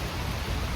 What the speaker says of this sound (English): the rain stopped for a while, but it's just non-stop